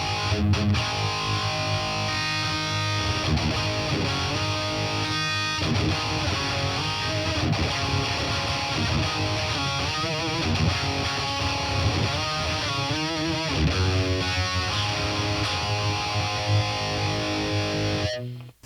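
Distorted electric guitar played through a BOSS Katana MK2 amp with a low-cut pedal trimming the bass, a thin, bright rock riff with palm-muted chugs and sustained notes running steadily for nearly twenty seconds, no voices.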